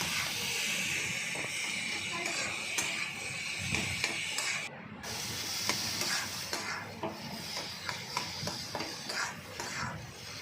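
Spice masala fries and sizzles in a pan with lentils nearby, a steady close hiss broken by repeated scraping stirs throughout, with no talking.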